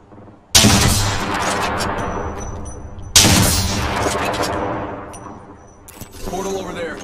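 Bursts of rapid automatic gunfire in the video game Apex Legends, two loud volleys starting abruptly and trailing into sustained shooting and clatter, close and dense.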